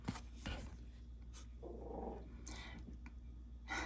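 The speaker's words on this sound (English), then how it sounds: "If you can hear that back in the background, that is my dog" Quiet, breathy dog panting and faint growly snuffles come from somewhere nearby but off in the background, low in level.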